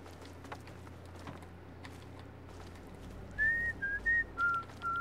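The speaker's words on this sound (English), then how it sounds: "could you not whistle?" A person whistles a short tune of four sustained notes near the end, clear and fairly loud over a low ambient hum, within the Fallout 3 mod Alien Resurrection.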